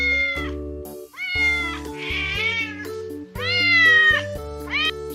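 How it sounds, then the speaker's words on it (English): A farm cat gives several drawn-out, close meows in quick succession. The cries rise and fall in pitch with short gaps between them, and no talking is heard. "Cat chases mice in the farm."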